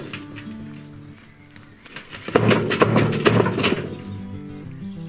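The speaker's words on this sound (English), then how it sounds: "Okay, so we're going to give this thing a bit of a shake to try and settle any wood." A metal charcoal-making burner filled with wood is shaken to settle the load. Close, muffled thunks and knocks of wood shifting inside build to a cluster of louder thuds midway, then fade.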